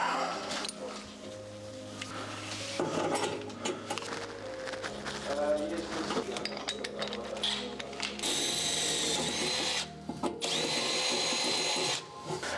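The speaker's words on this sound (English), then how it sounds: "So I'm going to drill my hole, mark this armoured up, get it glanded" A power drill bores a hole in tray work for armoured cable during a 3-phase distribution board install, buzzing in bursts with ratcheting mechanical noise, while a person talks over it.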